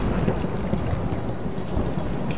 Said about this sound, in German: Oh, da ist ein Blitz eingeschlagen.